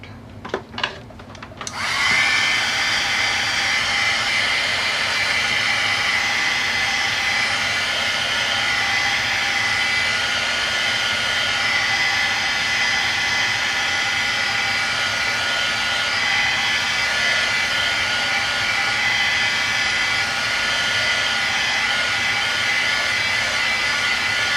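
A dryer blowing on freshly applied paint, starting after a few brief handling clicks and then running as a loud, steady whirring roar for over twenty seconds without a break.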